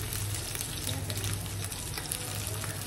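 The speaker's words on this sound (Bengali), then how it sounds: "আর এখানে মাছের মাথাটা ভাজা বসিয়ে দিয়েছি।" A fish head fries in hot oil in a pan, a steady crackling sizzle with small pops running throughout, close and continuous with no talk.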